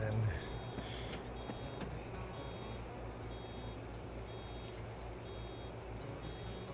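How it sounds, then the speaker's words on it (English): A hay baler's full-bale warning beeps softly and steadily, a thin repeating tone repeated every second or so over the constant rumble of farm machinery. "Whenever the bale is full in the baler, it starts beeping at us."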